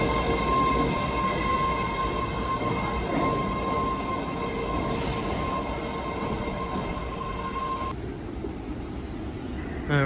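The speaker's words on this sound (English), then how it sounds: "a train decided to arrive at this very good moment" An older-generation Red Line subway train arriving at a Boston station, a steady loud rumble with a whining tone that cuts off near the end, no talking.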